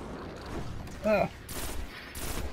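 Bursts of rapid enemy gunfire in the Destiny video game, a couple of short noisy volleys with a brief synthetic chirp between them, fairly close and moderately loud.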